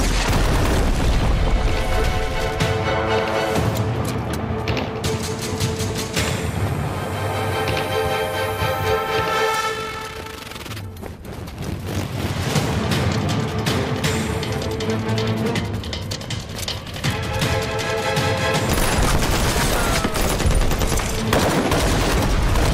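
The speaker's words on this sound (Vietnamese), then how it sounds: "Nhắm vào thùng xăng của xe, bắn." Film gunfire aimed at a car's fuel tank, a loud rapid fusillade of shots followed by booming explosions, with a dense, roaring wash of blasts and debris that briefly dips before surging again.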